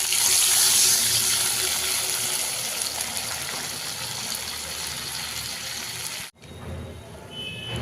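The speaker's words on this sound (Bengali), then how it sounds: "জলে সর্ষে মিশিয়ে দিলাম, ওই সর্ষে জলটা দিয়ে দিব।" Mustard water pouring into a pan of hilsa fish curry, a steady close gushing splash that runs continuously for about six seconds, cuts off abruptly, then a softer trickle resumes.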